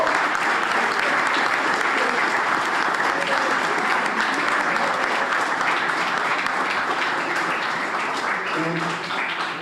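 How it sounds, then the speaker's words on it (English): An audience at a youth summit gives sustained applause, a dense, loud wash of clapping that holds steady for several seconds and then eases slightly toward the end. "let's give these guys a round of applause"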